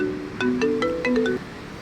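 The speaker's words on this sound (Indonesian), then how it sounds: "Ini Devan telepon." A phone rings with a short melodic ringtone of a few bright, quick notes, close and clear, with no voices over it.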